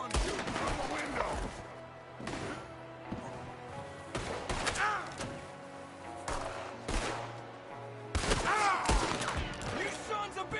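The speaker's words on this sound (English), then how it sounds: "There's another one shooting from the window." Gunfire rings out during an ambush in Red Dead Redemption 2, with a shooter firing from a window. Repeated loud rifle and pistol shots come in uneven bursts, with voices talking between them.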